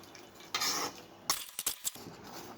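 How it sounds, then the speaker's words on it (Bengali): Beef curry with cabbage, flat beans and peas being stirred in a pot: a soft scraping swish, then a short run of spoon knocks and scrapes against the metal, quiet and close. "এখন এটা আমি নাড়াচাড়া দিয়ে দিলাম।"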